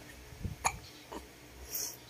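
A baby hiccups softly a few times in quick, uneven succession, faint and close, with light breathing between.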